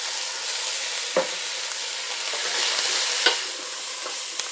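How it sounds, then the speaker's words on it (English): Vegetables seasoned with salt and pepper sauté in a pan for soup, giving a steady broadband sizzle with a few brief scrapes from stirring near the mic. "And I'm just going to stir that up and let it saute for a few minutes."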